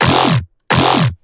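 A dubstep one-shot sample from the Virtual Riot Pack plays twice, each a loud, dense burst of about 0.4 seconds with a growling low sweep beneath a bright upper wash, separated by a short gap of silence.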